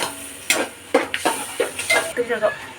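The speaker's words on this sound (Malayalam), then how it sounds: "പച്ചക്കറി നമുക്ക് ചേർത്ത് കൊടുത്തിട്ടുണ്ട്. എന്നിട്ട് നല്ല ഇളക്കുക." Vegetables stirred in a cooking pot with a spoon, giving a series of close scraping, clattering strokes about every half second over a soft sizzle.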